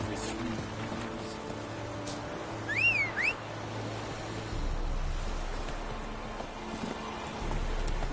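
Roach, Geralt's horse in Witcher 3, moving with soft rhythmic hoofbeats on open ground, low and steady beneath ambient wind, with a brief whinny-like cry partway through.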